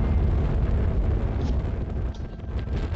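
A medium shuttle rocket launches in the video game Astroneer, giving off a loud, steady low roar with broad rumbling noise that holds for the whole stretch without pause.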